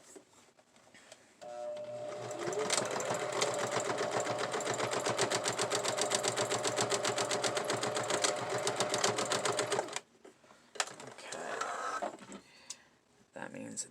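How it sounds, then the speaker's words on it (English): A sewing machine stitches fabric storage bins together in a steady, rapid mechanical whir lasting about eight seconds, close and clear. Quieter handling sounds come before and after it, with a voice speaking nearby. "then I match them up corner to corner, as long as they line up, and then I sew them together this way"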